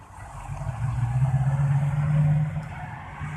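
A motor vehicle's engine rumbles loudly, swelling as it passes close by and then fading slightly, with no voices.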